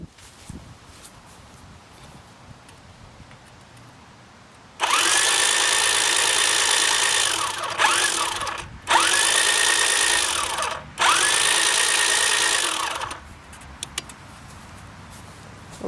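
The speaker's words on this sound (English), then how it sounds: "Okay, so that was the M134 spinning." Electric motor spinning the barrel of a replica M134 minigun, a loud steady whirring buzz in three long bursts with short gaps, each ending with a winding-down tone.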